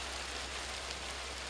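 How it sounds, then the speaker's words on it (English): Hail bouncing off the wooden boards of a front porch during a hailstorm, a dense, continuous hiss of many tiny impacts, steady and fairly loud, with no voices. "you can watch that hail bouncing off the boards of our front porch"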